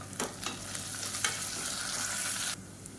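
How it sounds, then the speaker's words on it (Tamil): Onions with mint and coriander frying in oil for a mutton biryani, a steady close sizzle with a few stirring scrapes, ending abruptly near the close. "இப்போ வெங்காயம் வதங்கிட்டு இருக்கையிலே புதினா கொத்தமல்லி சேர்த்துக்கலாம்."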